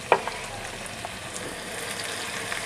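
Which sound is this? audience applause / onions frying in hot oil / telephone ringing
onions frying in hot oil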